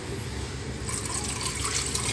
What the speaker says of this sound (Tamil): ஒரு கப்பு அளவுக்கு தண்ணி இதில் ஆட் பண்ணிக்கலாம்